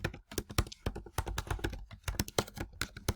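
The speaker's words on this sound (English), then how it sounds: "Ugh, typing's horrible." Rapid, irregular clicking of keys on a computer keyboard, close and steady for a few seconds with no voice over it.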